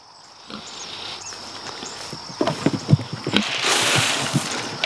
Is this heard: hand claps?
no